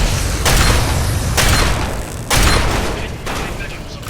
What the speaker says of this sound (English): now we're getting shredded by a turret